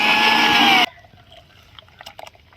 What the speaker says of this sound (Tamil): தண்ணி கொஞ்சம் ஆட் பண்ணிக்கலாம்.